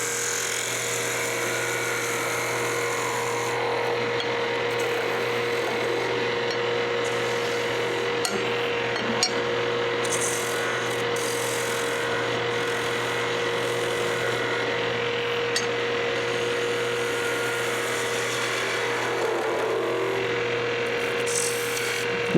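A skew chisel cuts wood on a spinning lathe in a woodturning class, producing a continuous steady hum with a whirring hiss over it and faint scraping ticks throughout.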